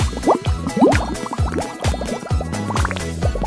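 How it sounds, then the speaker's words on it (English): Water poured into a candy-making gadget for forming tiny drops, a run of close, bright gurgling fill sounds with quick rising pitches and drips, loud and busy with no talking. "Just add water."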